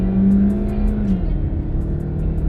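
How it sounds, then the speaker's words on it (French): Naturally aspirated engine of a Hyundai Sonata Limited sedan revving close by, a steady loud drone that swells briefly and then settles, with no voices. "vous entendez cette belle sonorité, la sonorité du moteur atmosphérique qui n'est pas étouffé par des turbos, par la suralimentation"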